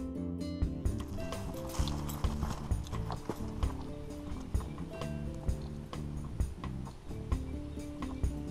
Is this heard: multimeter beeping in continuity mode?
no